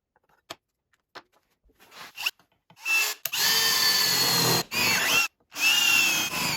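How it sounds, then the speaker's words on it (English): A trim router fitted with a carbide burr bit cuts into material while upgrading a 1980 Brower incubator: a few scattered clicks and handling knocks, then loud, close bursts of high whining cutting separated by brief stops. "This is a carbide burr bit. It's for a die grinder, but it uses the same 1/4-inch collet that a trim router uses."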